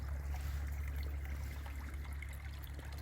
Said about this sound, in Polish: Także tutaj bardzo intensywne napowietrzanie